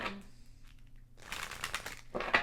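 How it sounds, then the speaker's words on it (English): A deck of tarot cards being shuffled, quiet soft riffling and rustling bursts in the second half after a brief pause, close to the microphone. "As I keep shuffling the deck"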